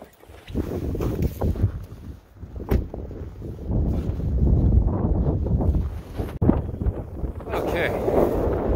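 Strong wind buffets the microphone outdoors on a windy February day in Ontario, producing loud continuous low rumbling gusts with brief surges throughout.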